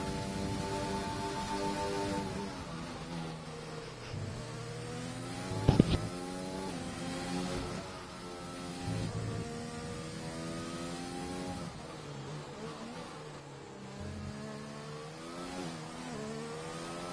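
Simulated F1 race car engine at the Australian Grand Prix in a racing game, revving high through repeated upshifts and downshifts, with a steady loud whine that rises and falls in pitch across the lap and one brief sharp burst midway.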